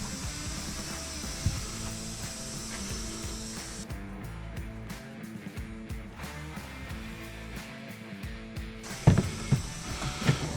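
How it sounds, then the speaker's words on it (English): Vacuum pump running to hold suction clamping pucks in an acrylic countertop fabrication shop: a steady mechanical whir with a ratcheting, geared texture, continuous throughout, and a few louder knocks near the end. "a pump, and it pumps through these pucks. These pucks right here make suction"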